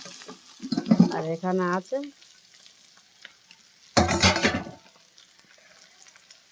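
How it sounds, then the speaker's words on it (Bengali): Bitter gourd, potato and fish roe fry in a home kitchen pan; a short loud sizzling burst flares up after a brief spoken phrase, with quiet crackling before and after. "আজকে রে ঘরে রান্না করছি উচ্ছে আলু মাছের ডিম দিয়ে ভাজা"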